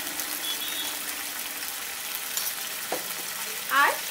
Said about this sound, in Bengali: এখন এই মশলাটাকে ভালো করে একটু কষাতে থাকবো।